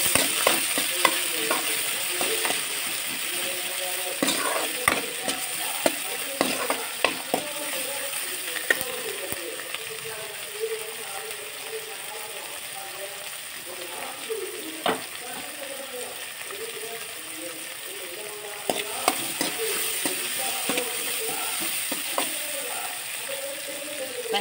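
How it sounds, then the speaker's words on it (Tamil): Sliced onions with a little salt sautéing in a pan for masala dosa filling, a continuous sizzle broken by repeated scraping and clacking of a spatula stirring throughout. "லேசா உப்பு போட்டுடுங்க வெங்காயம் வதங்கிரும்"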